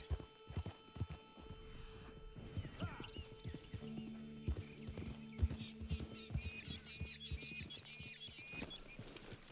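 Steady clip-clop of horse hooves trotting in Red Dead Redemption 2, with a brief whinny and creaking movement, moderately close and fairly quiet.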